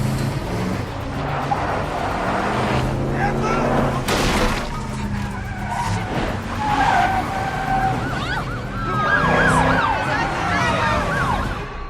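Police car sirens wail during a film car chase as fugitives flee in a stolen pickup truck, mixed with skidding tires, engine roar and crashes in a dense, loud action soundtrack.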